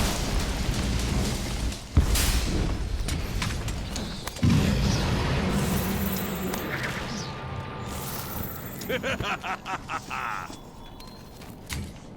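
Cannon fire in Monster Hunter World lands as two sharp, heavy booms a couple of seconds apart amid busy battle noise, followed by quieter clattering game effects.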